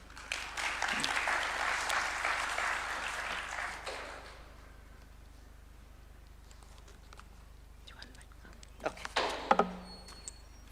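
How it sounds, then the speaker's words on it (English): Audience applause at a candidacy launch event, a burst of clapping that fades out after about four seconds, followed by a quiet stretch and then scattered knocks and shuffling noises. "Another round of applause."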